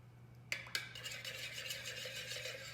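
Spices including gingerbread spice and cloves being stirred into pumpkin bread ingredients in a bowl, with a couple of sharp utensil clinks against the bowl followed by steady soft scraping and mixing, fairly quiet over a low hum.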